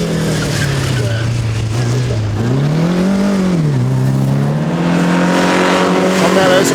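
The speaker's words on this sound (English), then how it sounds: "Mellows Riley TT Sprite." A Riley TT Sprite race car at the Chateau Impney hillclimb, its engine droning loudly and close with the pitch dipping and rising through a gear change, a steady throaty roar under someone talking.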